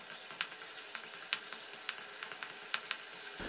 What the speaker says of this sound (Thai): ให้เราผัดกระเทียมกับเต้าเจี้ยวนะครับ